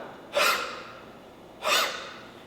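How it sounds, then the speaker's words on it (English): Two forceful exhalations from deep abdominal breathing during martial arts training, each a loud rushing breath out that fades slowly, spaced about a second apart, close to the microphone with no talk. "Deep abdominal breathing"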